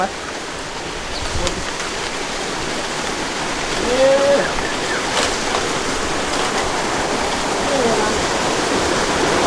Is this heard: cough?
no